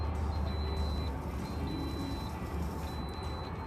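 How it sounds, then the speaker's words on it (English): A high, thin electronic beep repeats in long tones over a steady rumble of traffic and engine noise. "Oh my god, what is beeping?"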